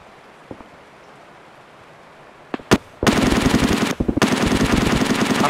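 Automatic gunfire in a Escape From Tarkov firefight on the Customs map: a couple of faint distant shots, then two sharp nearby bursts, followed by a long, loud, continuous stream of rapid fire that briefly pauses before resuming.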